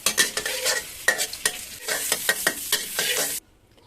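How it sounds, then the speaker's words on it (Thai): Dried shrimp, soaked beforehand to soften them, fry in oil in a pan. Busy sizzling runs throughout with repeated scraping stirs of a utensil, and no one speaks until the sound cuts off near the end. "เสร็จแล้วก็เจียวกุ้งแห้งนะคะ"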